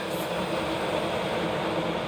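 Aboard a SEPTA Broad Street Line subway train, a steady, loud rumble and roar of the moving car fills the space, with no talk heard.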